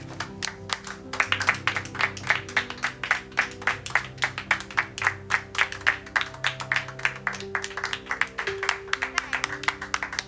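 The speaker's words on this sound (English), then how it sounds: "So, let's give a warm round of applause to Miss Daisy Brooks for her amazing work." Audience at an educators convention clapping in a warm round of applause, a dense steady patter of many hands lasting the full stretch, fairly close and even in loudness with no talk over it.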